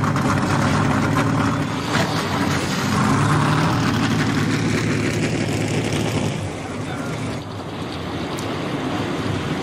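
Several ARCA stock car engines fire up and rumble together in a loud, continuous broadband roar at a race track, swelling and easing slightly with a crowd-like wash and faint voices underneath.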